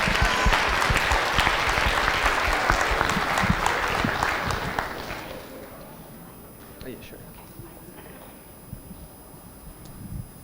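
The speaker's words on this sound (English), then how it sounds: "let's give them a round of applause" A school assembly audience applauds a jazz orchestra, a loud burst of dense clapping that tapers off after about five seconds, leaving a quieter room with scattered noise and faint voices.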